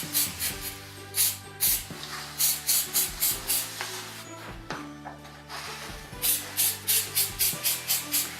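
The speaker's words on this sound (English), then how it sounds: "I'm simply going to spray a bit of spray adhesive on the corners and around the edges" Repeated short bursts of spray adhesive hissing from an aerosol can onto the corners and edges of a burlap placemat, in quick succession, close by, with brief pauses between groups of sprays.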